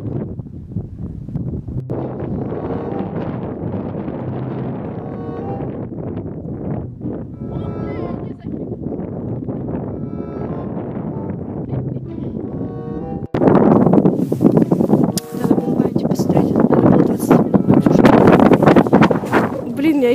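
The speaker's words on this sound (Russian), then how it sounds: "я айпад из рук ветром сдувает" Strong outdoor wind buffets the microphone in loud, rumbling gusts that grow heavier in the last third, with people talking over it.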